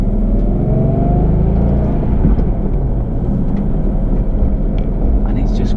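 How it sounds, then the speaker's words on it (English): Manual Aston Martin Vantage AMR engine droning loudly through gear changes, a steady dense rumble from inside the cabin with brief dips as revs shift. "And it's just great changing gear."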